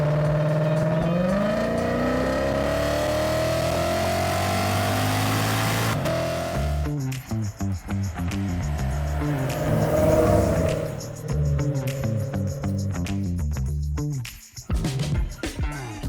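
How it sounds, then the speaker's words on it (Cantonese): A 2007 Lexus IS F sedan with VVT-i and a two-stage intake revs hard, its engine note climbing steadily and loudly, then dropping into quick, rasping exhaust pulses and fluttering rev changes up close. "進氣勁咗之後咧，個排氣聲咧亦都相應地咧係亢奮啲嘅"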